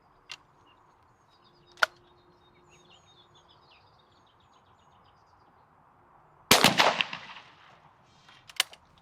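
A single sharp shotgun blast fires a 28-gram Eley Select cartridge through a quarter-choke bottom barrel during outdoor pattern-plate testing, loud and close, with faint birdsong and light clicks before and after.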